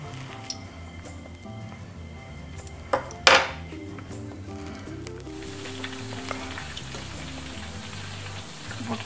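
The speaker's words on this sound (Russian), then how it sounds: "Кусочки уже обжариваются" Battered chicken fillet pieces fry in a pan with a steady close crackle and hiss, joined by a few clinks of utensils against the pan and a brief sharper sizzle, with no talking.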